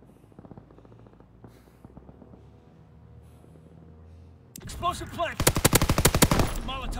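Rapid automatic gunfire in a 2v2 shooter video game match, a burst of loud, closely spaced shots arriving abruptly in the second half after quieter game sounds and faint background music.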